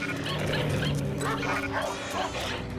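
Small dogs barking and yipping in a continuous, dense noisy scene, with overlapping sharp barks and whimpers under heavy background noise.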